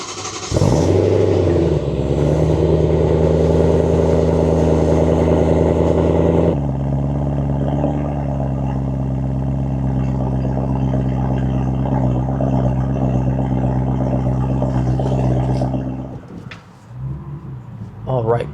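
A BMW E90 M3 engine revs up strongly then settles into a steady droning cruise, heard from inside the car, before easing off near the end.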